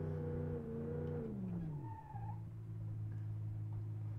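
A car in the BeamNG.drive driving simulator hums with a steady engine drone, dips in pitch as it slides, gives a brief high tire squeal, then settles back into a constant engine note.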